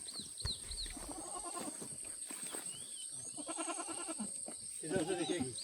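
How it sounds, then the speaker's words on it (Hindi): A goat tethered as bait near a trap camera in Sitapur bleats in short repeated cries, moderately close, over a steady high insect drone and faint background murmur. "ये बकरी बंधी हुई है। आवाज़ लो उसकी।"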